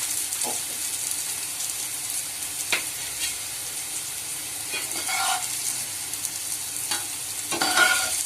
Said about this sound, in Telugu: ముక్కలన్నీ ఇలా ఫ్రై చేసుకుంటూ ఉండాలి, కలుపుకుంటూ ఏగే వరకు.